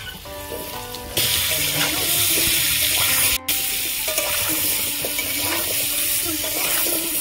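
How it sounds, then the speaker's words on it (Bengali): Potatoes with turmeric frying in hot oil in a pan, a loud continuous sizzle that jumps up sharply after a moment, with brief clinks of stirring and a tiny dropout partway through. "এইভাবে আলুগুলো নাড়াচাড়া করে আমি ভালো করে ভেজে নেব।"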